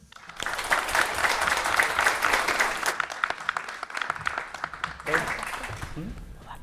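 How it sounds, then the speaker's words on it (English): An audience at a higher education reform conference claps to welcome panelists, steady close applause with distinct individual claps, briefly easing before a brief voice and a final swell that tapers off. "So please give them a warm round of applause and welcome."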